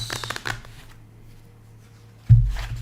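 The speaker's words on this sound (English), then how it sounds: "Let me give my deck a little quick shuffle here." A deck of cards is given a quick shuffle during a psychic card reading, with a soft riffle of papery flutters early on and a sharper burst of card noise near the end.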